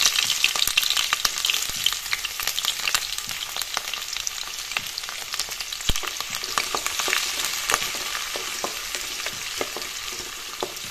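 Fish frying in hot oil in a wok, a loud, steady crackling sizzle with dense spitting pops throughout and no voices.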